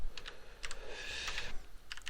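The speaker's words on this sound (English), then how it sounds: "It will ask me to type it again to make sure I haven't typed it wrong." Keys clatter on a computer keyboard in short bursts of typing, with a quick run of taps, a longer denser stretch, then another cluster, fairly close in a quiet room.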